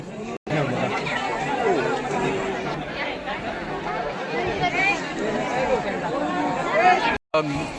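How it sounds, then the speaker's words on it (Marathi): Dense crowd chatter fills the grounds of the Jejuri Martand Dev temple in Pune, Maharashtra, a steady close babble of many voices with no single speaker standing out. "तर आज इथं खूप गर्दी होती"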